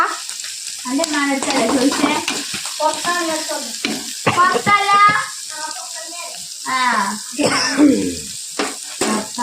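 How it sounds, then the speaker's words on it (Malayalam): Food fries in a pan in a home kitchen, a continuous hiss of sizzling running beneath a woman's near, frequent talking. "അപ്പൊ ഇതാ ഇത് ഫ്രൈ ആക്കി എടുക്കട്ടെ"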